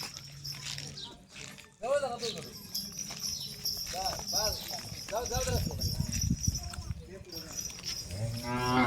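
Bullocks moo repeatedly at a village Bail Pola festival in Satara, with low calls rising over the steady chatter of people talking nearby.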